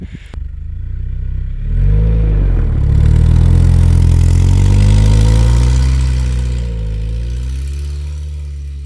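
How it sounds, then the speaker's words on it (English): A second-generation Honda CR-V engine labouring while the bottomed-out SUV drags through deep snow, a loud low steady drone that rises and swells with revving, then eases off. "We're just dragging our suspension components and gas tank along"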